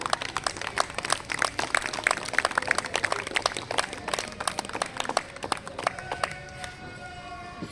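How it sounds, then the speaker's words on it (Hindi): Applause breaks out for Manjeet Singh at a yoga camp session: dense, steady clapping from a group for about six seconds, then thinning to scattered claps as it fades. "इनके लिए बहुत जोरदार तालियां हो"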